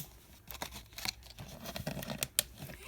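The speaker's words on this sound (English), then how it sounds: "then I go ahead and just cut the wrapper and peel it off" Small scissors snip and crinkle through a plastic wrapper up close, a series of quiet, irregular cuts and rustles with faint clicks.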